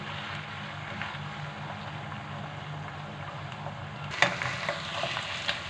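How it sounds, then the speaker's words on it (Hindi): Chicken pieces frying in a pan until browned for egg fried rice, a constant soft sizzle with light stirring scrapes and a brief clatter near the end. "चिकन को तब तक फ्राई करेंगे जब तक इसका कलर ब्राउन हो जाएगा।"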